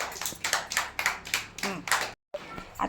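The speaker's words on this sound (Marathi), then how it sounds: "दृष्टीसाठी टाळ्या वाजवा" Children in a school classroom clap for a classmate, a run of quick, irregular claps lasting about two seconds before a brief silence and a few scattered claps.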